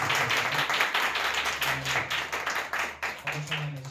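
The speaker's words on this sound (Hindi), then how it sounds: "नाम परमेश्वर के लिए जोरदार तालियां दें" A church congregation claps in a dense, steady patter of applause, close and continuous, with a low hum and a voice running beneath it.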